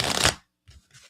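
A deck of playing cards is shuffled close by, a short dense riffle burst followed by two fainter soft card flutters.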